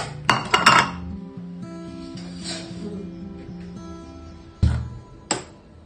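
Metal cooking pot set down in a home kitchen while preparing drumstick leaf momos and chutney, giving a few sharp clanks near the start and two more near the end, close and fairly loud.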